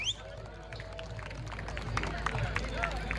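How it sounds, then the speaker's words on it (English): Festival audience at a peace festival applauding a speaker from a local Amnesty International group, a steady wash of clapping with crowd murmur and some voices throughout, moderately close. "Round of applause for Chrissie, please"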